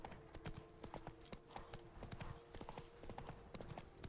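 Horse hooves clip-clop in The Witcher 3, a quick, even trotting rhythm that stays fairly faint over soft in-game ambience.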